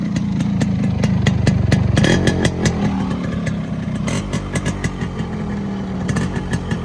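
Yamaha RX100 two-stroke motorcycle engine running close by, a loud steady putter with sharp rapid popping exhaust pulses and a brief rev around the middle, no talk.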